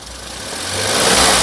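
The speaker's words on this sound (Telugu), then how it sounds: "ఇంజిన్ యొక్క నాయిస్ కూడా చాలా సైలెంట్గా అయితే ఉంది" A 2013 Volkswagen Polo Highline engine runs steadily close by, a low, even rumble with airy noise that grows slightly louder over the short stretch.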